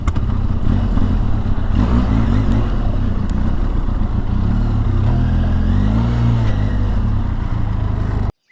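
A Benelli TRK 502X adventure motorcycle engine drones steadily while riding, with rising pitch sweeps as it accelerates through gears, loud and continuous with wind and road noise throughout.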